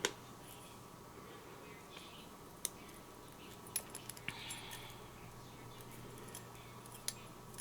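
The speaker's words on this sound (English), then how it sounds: "just try to get as close as you can with a wire cutter or your little whatever it is and clip that away" A wire cutter snips a small stray piece of metal off a papercraft cutting die, leaving a few faint, sharp clicks scattered over quiet room hiss.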